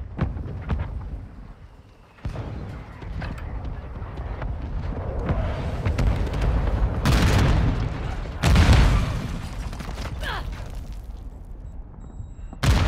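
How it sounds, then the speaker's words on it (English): Mortar strike explosions in Call of Duty: Modern Warfare II, set at the Breenbergh Hotel map, come through as loud, deep booms and rumbling blasts with a heavy burst near the end, over constant battlefield noise. "Hostile mortar strike incoming."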